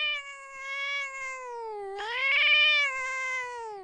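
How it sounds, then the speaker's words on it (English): A cat lets out a loud, drawn-out screeching yowl that rises and wavers in pitch, then strains harder midway before trailing off. It is close and alone, with no talk. "she heard the cat screech"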